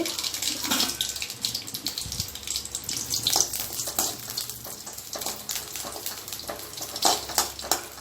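Buttermilk-soaked chillies frying in hot oil in a home kitchen, giving a steady, fairly loud crackling hiss that runs through the whole stretch with no voices.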